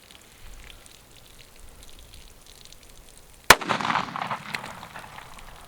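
An FN 5.7x28 Vmax round is fired into a watermelon outdoors: after quiet ambience, a single sharp, loud gunshot cracks, followed by a splattering burst and scattered debris settling.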